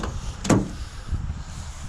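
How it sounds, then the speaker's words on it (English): A car door on a cheap project car with a B&M ratchet shifter opens with a sharp latch click and a short creak, followed by low rumbling handling noise nearby. "I can probably open the door actually"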